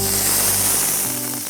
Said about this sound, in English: Sizzling is happening.